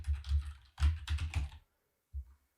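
Typing on a computer keyboard while entering a name during setup of a working user app in innovaphone myApps, with bursts of quick keystrokes, a pause, then a short final burst, close and fairly loud.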